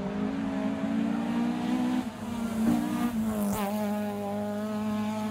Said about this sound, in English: the induction sound from this engine is so pronounced